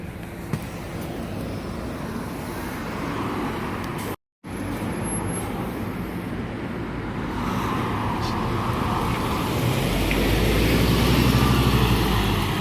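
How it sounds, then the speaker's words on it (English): A Scania N250 bus, registration YP67 XBR, rings with a loud, steady retarder scream and engine drone while riding, growing more intense toward the end, with no break in the noise apart from one brief gap. "that must be some of the loudest retarder action screaming I have heard"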